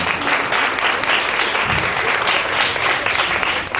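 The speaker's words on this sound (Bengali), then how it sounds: "আমার মনে হয় একটা হাততালি হওয়া উচিত 1941 থেকে 2008 অব্দি আসার জন্য।" Dense, steady applause from a concert audience at a classical music gathering, a continuous rush of many hands clapping at once without a break.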